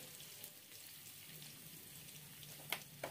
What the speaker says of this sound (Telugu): ఉల్లిపాయ ముక్కలు కూడా వేసుకొని ఫ్రై చేసుకోవాలి.